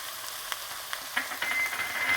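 Garlic and ginger frying in a pan for veal nihari, a steady broadband sizzle that swells louder partway through as the aromatics hit the oil, with a few soft stirring clicks and no talking.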